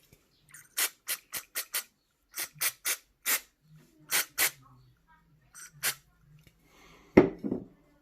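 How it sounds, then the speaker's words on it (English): Contact cleaner sprayed in short bursts onto a vape device circuit board: about eleven quick, close hissing squirts in uneven groups, then a brief clatter at the end. "I've squirted contact cleaner up board to get rid of any excess liquid"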